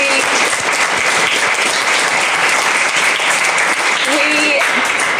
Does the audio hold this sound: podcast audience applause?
yes